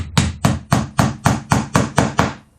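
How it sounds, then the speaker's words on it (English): A hammer drives nails into a wooden planter box with eight sharp, evenly paced blows, each ringing briefly before the next. The strikes are close and clear, with no talking. "give your nail just a little tap to get it set so you can get your fingers out of the way"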